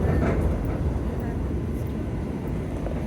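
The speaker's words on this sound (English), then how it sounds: "And some more Elizabeth line trains." Elizabeth line trains pass near Old Oak Common in London, heard from on board as a low, steady rumble with a broad roar that fades slightly over three seconds, with no voices.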